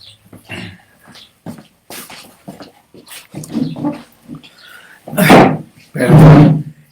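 A small pet dog scrambles up close by, with short bursts of whimpering, panting and soft thumps that grow louder and end in two strong, breathy outbursts.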